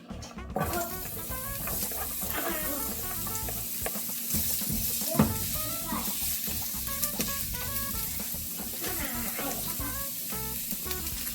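Onion frying in a pan for a quick breakfast dish, a steady busy sizzle with stirring clatter running throughout, close and fairly loud with no talking.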